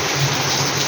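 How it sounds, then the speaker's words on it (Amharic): Steady rain pours down outdoors over a home yard after weeks of dry weather, a dense, even hiss close by that carries on without a break and with no voices. "ዝናብ እየዘነበ ነው"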